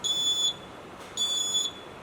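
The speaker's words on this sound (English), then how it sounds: "when I press this switch over here, the buzzer starts to beep" Two shrill electronic beeps, each about half a second, sound close by with a short pause between them against a faint hiss.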